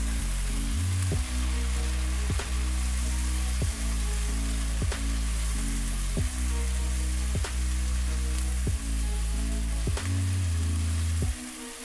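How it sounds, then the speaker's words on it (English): Curry spices and a lump of jaggery sizzle steadily in hot oil for a sweet and sour butternut squash curry. The frying hiss stays loud and continuous, broken by regular sharp clicks from stirring. "So we're going to cook this until the oil separates"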